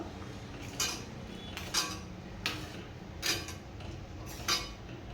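A spoon stirs green moong kheer with jaggery in a pot, giving five evenly spaced scraping clinks against the metal about every second, close and quiet.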